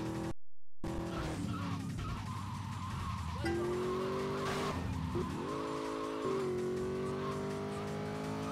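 A Sentinel car in GTA Liberty City Stories revs and roars through gear changes, the engine pitch climbing and dropping repeatedly amid screeching tire skids, fairly faint overall.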